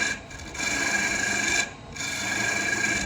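A lathe tool cuts spinning walnut on a colorful goblet, burnishing off the bevel: a steady, close, raspy scraping that runs continuously and briefly eases twice.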